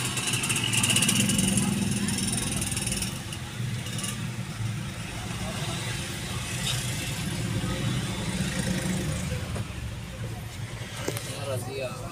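Steady idling engines and traffic-jam rumble fill a busy market street in Manokwari, with people talking nearby over the low motor drone.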